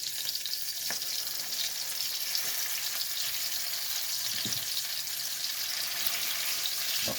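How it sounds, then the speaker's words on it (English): Black-eyed peas frying in oil in a pan, giving a steady, fairly close sizzle with a few soft clicks of a spatula and no talking. "Just fry them up."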